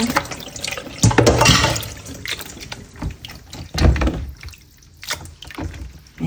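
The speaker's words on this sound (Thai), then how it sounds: "นี่ค่ะเราก็นำมาเทลงในน้ำเปล่าแบบนี้นะคะ" Fresh, soft Thai khanom jeen rice noodles are tipped into a bowl of plain water for rinsing, producing close, uneven splashes and sloshing bursts of water with brief pauses between them, and no speech.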